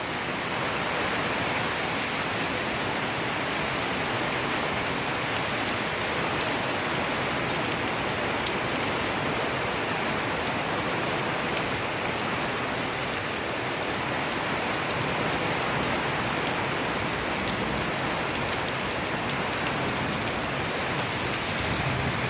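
Heavy rain falls with a light storm wind blowing through, a loud, continuous roar of downpour that holds steady for over twenty seconds without pause and with no one speaking.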